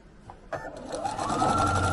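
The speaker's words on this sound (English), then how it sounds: "We're just stitching down the center of the tape." Sewing machine stitching down the center of chenille tape on a holiday sew-along project, starting with a few clicks then settling into a steady, close, continuous whirring hum that builds and holds to the end.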